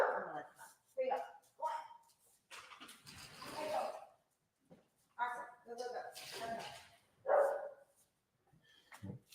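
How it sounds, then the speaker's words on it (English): Several dogs bark indoors in short bursts and yips, mixed with someone talking close by. "She's going to keep barking."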